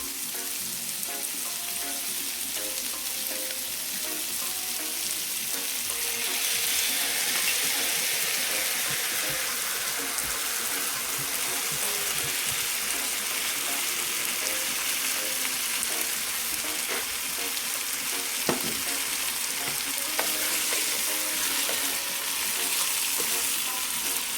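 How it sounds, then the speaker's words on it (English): Chicken sizzles loudly in a hot pan as sauce is poured in, with a steady frying hiss and occasional stirring clinks and scrapes over about twenty-four seconds, with no talking. "So now I'm going to go in with this sauce."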